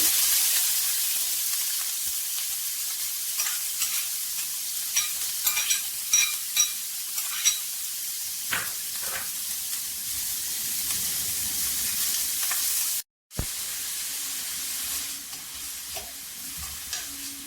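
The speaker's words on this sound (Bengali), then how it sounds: "নেড়ে ছেড়ে পেঁয়াজ ভালো করে বেজে নেব" Onions sizzle steadily in hot oil with bay leaf while a spoon scrapes and stirs the pan in short, repeated strokes, close up, with no talking.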